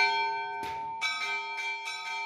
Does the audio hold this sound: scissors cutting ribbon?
no